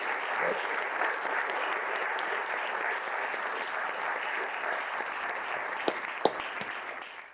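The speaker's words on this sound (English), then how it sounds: "Let's give them a round of applause" A conference audience at a climate event gives a sustained round of applause, an even, dense patter of many hands heard from a middle distance, with a couple of sharper claps near the end as it fades out.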